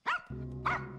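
A dog in a Smallville TV episode gives two loud, close barks separated by a short pause, over a steady low background hum.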